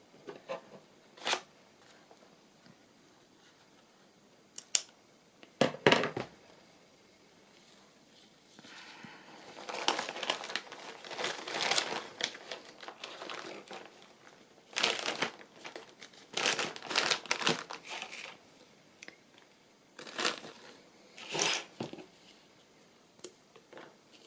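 Scissors cutting paper for craft tag booklets, scattered close snips and crinkly paper rustles in irregular bursts, fairly quiet with gaps between.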